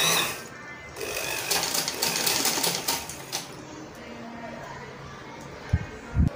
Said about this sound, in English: So I'll sew round